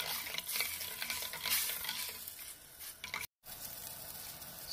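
Soft stirring and a gentle sizzling bubble as curry spice mix is stirred into hot water in a pot for instant curry noodles, with light scraping strokes throughout and a brief gap near the end.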